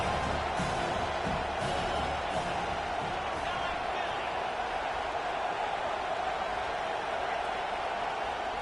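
Steady roar of a big home crowd cheering at a Penn State football game as the defense faces third down, a dense, sustained wall of noise from start to finish with scattered whoops.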